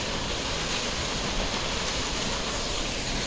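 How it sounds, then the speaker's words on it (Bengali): A waterfall beside the mountain road to Lachen in North Sikkim, heard as a steady, dense roar of falling water that fills the whole short stretch at an even level, with no voices over it. "বিউটিফুল, ওপর থেকে ঝর্ণাটা পড়ছে, জাস্ট অসাধারণ।"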